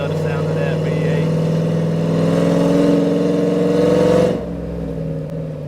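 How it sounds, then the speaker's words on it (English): A cammed Chevrolet Silverado 5.3L V8 pickup with long-tube headers cruises a neighborhood, its deep, lumpy exhaust burble loud and close, rising slightly before dropping off as the throttle eases near the end. "They love the sound of that V8."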